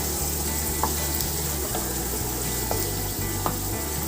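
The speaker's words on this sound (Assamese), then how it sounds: "এতিয়া মই আলুখিনি ফ্ৰাই কৰি লৈছোঁ প্ৰথমে" Potatoes frying in hot oil for a local chicken curry, giving a steady, dense sizzle throughout with a low rhythmic hum underneath and a few faint clinks.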